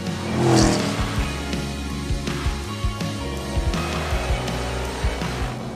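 A Chevrolet Camaro ZL1 sports car with 580 horsepower is driven hard on a track, its V8 engine revving up and down loudly through repeated gear changes, heard up close with no talk.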